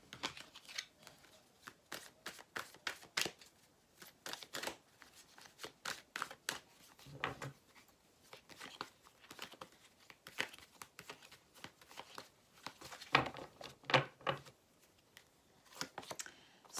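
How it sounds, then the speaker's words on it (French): Tarot cards being laid out on a spread, soft papery slaps, shuffles and slides in irregular bursts, quiet and close with no talking. "Allez, on va mettre des cartes dessus."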